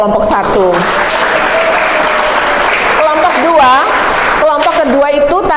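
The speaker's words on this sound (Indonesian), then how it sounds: "kita tepuk tangan untuk kelompok 1" A classroom group of catechism students applauds group one, with steady loud clapping running throughout while a teacher talks over it.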